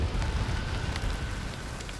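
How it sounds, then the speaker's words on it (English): Rain falls steadily in a volcanic landscape near El Fuego after an eruption, a soft, even hiss of drops on surfaces with no voices, moderately quiet and continuous. "the skies darken and it begins to rain"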